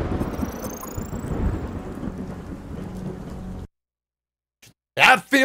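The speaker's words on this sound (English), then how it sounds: "Oh, and there was a storm." A thunderstorm hits the docks in the UnMetal video game, with heavy rain and deep rumbling thunder roaring steadily before it cuts to sudden silence. A few short, loud bursts of sound follow.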